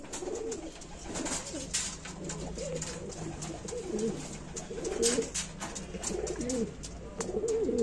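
Pigeons coo in a loft housing black-green and sugar-white Kaldum and Saharanpuri Napta breeds, with several overlapping soft, rolling coos at close range and a steady background of other birds and rustling.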